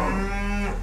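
A cow on a farm gives a single close, loud moo, a drawn-out tonal call lasting under a second before fading.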